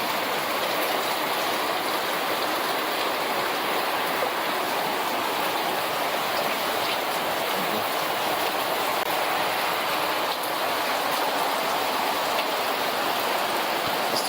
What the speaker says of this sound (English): the rain coming down still